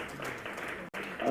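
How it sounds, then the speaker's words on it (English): Audience applause at a C-Suite business forum, a steady crowd clapping that carries on without a break apart from one brief dropout, with a voice rising toward the end. "Another round of applause, ladies and gentlemen."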